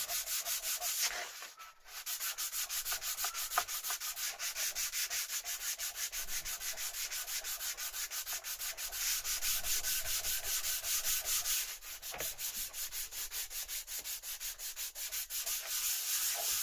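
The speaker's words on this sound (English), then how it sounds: "Now you can use an orbital sander on this, but you just got to watch out you don't cut through the veneer." An orbital sander works the wood veneer of a turntable plinth with a continuous close rasping whir. It briefly lifts off or eases near two seconds and again near twelve seconds, with no talk.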